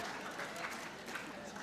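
Audience applause during a debate, a faint but sustained crowd patter of clapping heard from a distance, even in level with slight swells.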